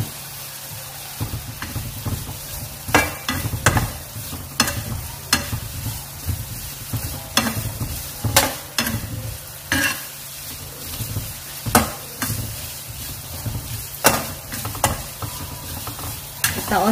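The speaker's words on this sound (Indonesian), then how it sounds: "Nah, masukkan paprikanya dulu. Kita oseng-oseng." Paprika stir-fried in melted butter in a pan for a Taiwanese-style mushroom and pepper dish, with a steady sizzle and repeated sharp scrapes of the spatula at an irregular rhythm, close and alone.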